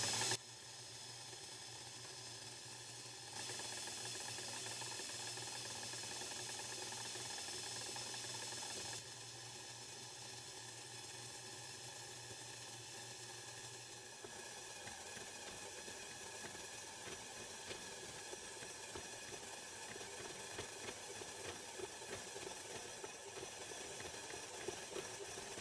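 A stand mixer with a dough hook kneads fry bake dough, a steady mechanical whir and hiss running continuously at low level, shifting tone a few times as the load changes, with no talking.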